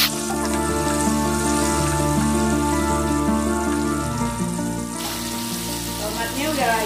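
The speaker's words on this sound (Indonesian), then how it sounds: "Sekarang kita goreng tomatnya dulu." Tomatoes frying in a pan, a steady close sizzle running throughout with a constant hum underneath.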